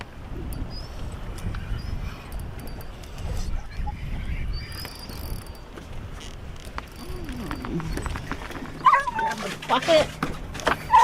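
A dog barks and yips on a fishing boat out on the water at the Great Barrier Reef, the barking mixed with people talking and growing sharper and louder near the end.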